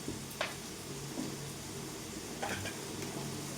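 Coconut oil heats in a pan with a quiet, even sizzling hiss, broken by a few light clinks of a utensil.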